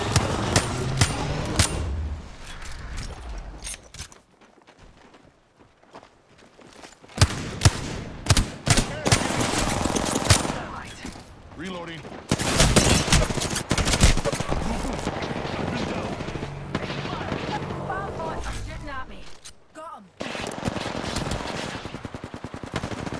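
Gunfire in Apex Legends rips out in loud, dense automatic bursts and single shots, drops to a short near-silence, then resumes in heavy, sustained volleys.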